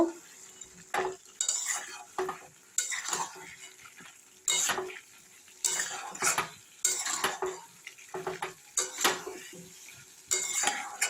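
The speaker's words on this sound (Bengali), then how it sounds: "এইভাবে একটু কষিয়ে নেব" Fried potato and pointed gourd being sautéed with prawns in a pan, repeated scraping strokes of a spatula against metal in an uneven rhythm over a soft sizzle, close and fairly loud.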